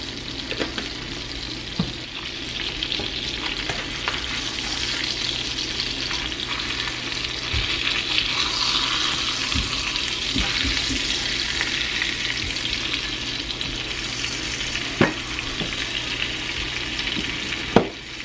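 Butter beginning to burn in a frying pan, a constant close sizzle and hiss with occasional clicks and a couple of brief louder clanks, no speech.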